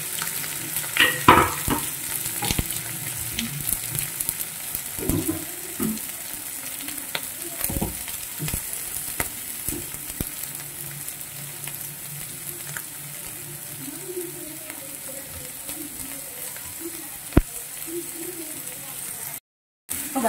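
Sliced onions and green chilies sautéing in hot oil give a continuous close sizzle with occasional stirring scrapes and clinks, while a voice talks faintly in the background.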